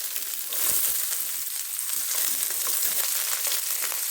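Grated coconut fries in oil with turmeric powder, a steady, close sizzle and crackle, with occasional soft stirring scrapes and no talking.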